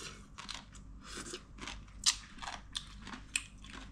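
Crunchy green papaya salad dressed with lime, fish sauce and fermented fish paste is chewed close up, with repeated wet, crisp crunches and bites at an uneven pace and a few sharper snaps.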